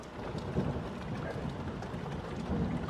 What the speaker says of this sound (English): Now it's garden variety rain.